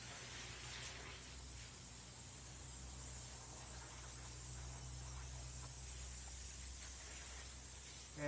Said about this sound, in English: I'm going to spray paint that gold